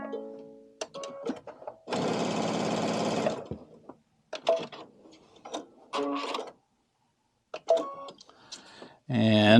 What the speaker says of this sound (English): We will sew right alongside it.